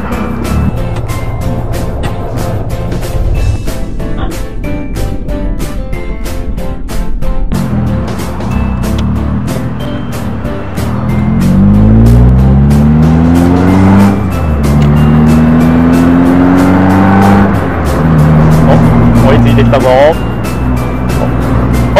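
A car approaches and drives past on a road, its engine rising and falling with shifting tones under steady loud talk, followed by another engine pitch sweeping up as it passes close by.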